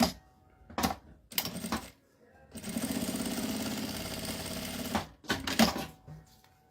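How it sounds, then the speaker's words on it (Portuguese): A sewing machine stitches along the bottom edge of a fabric wallet in one steady mechanical run of a couple of seconds. Short clicks and handling noises come before and after it. "eu passo uma costurinha nessa parte de baixo aqui"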